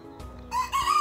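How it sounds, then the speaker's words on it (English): A rooster in a coop holding about 25 roosters and hens gives a short, loud crow close by, rising into a bright sustained call after a low clucking start. "roosters and hens."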